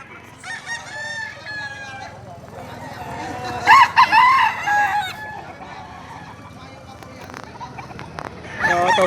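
Roosters crow repeatedly at a chicken market in Padre Garcia, Batangas, one long cock-a-doodle-doo following another, close and loud, with clucking and background chatter.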